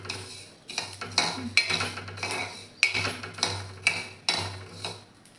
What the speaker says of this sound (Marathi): आता व्यवस्थित मसाला भाजून घ्यायचा आहे.